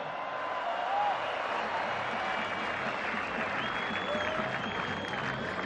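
A stadium crowd at a Bowsher sports complex celebration for Oman's Gulf Cup 23 champions applauds captain Ali Al-Jabri with sustained, dense clapping and cheering, steady and loud throughout, with faint whistles on top.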